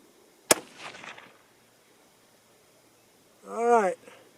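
A single sharp crack from a 22 ARC rifle firing a Hornady V-Max load, loud and close, with a short echoing tail and a brief voice afterward.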